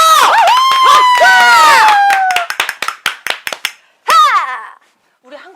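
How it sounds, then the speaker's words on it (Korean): Lively shouting and cheering from people on a trot music show, then a run of about a dozen sharp, separate hand claps close by. A final whoop follows before it trails off into near silence. "박수!"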